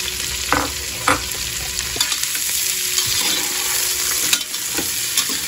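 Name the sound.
sautéing onion, green chili and garlic in pan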